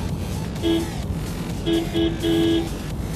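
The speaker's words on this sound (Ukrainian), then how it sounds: "Насправді сигнал цього автомобіля звучить дуже неприємно." Nissan Juke car horn honked four times in close succession, three short beeps and a longer final blast, loud and near over a low background rumble.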